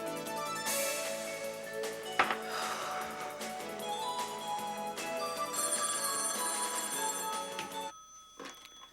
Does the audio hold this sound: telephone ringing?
yes